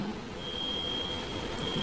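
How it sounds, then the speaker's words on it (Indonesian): Electronic alarm beeping inside a church during a sermon, a thin steady high tone held over low room rumble and murmur, fairly faint. "Ini bunyi alarm atau apa ya?"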